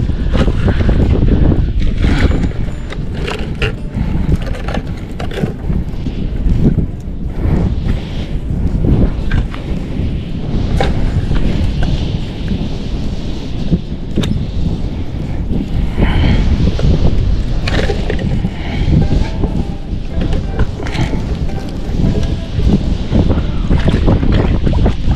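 Strong wind roars and buffets the microphone nonstop for the whole stretch, loud and rough, with faint splashing water underneath.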